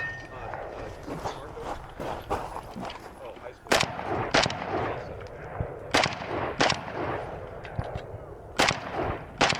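AK-47 rifle shots at a shooting competition, fired from a braced position at longer targets downrange, sharp repeated cracks spaced a second or so apart amid outdoor background noise.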